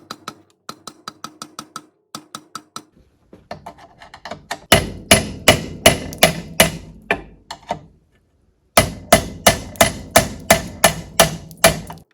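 Metal hammer strikes on a flathead screwdriver driven against a seized bearing carrier retainer nut, ringing out in quick bursts of sharp, close taps that grow louder and heavier midway, with brief pauses between series and no talk.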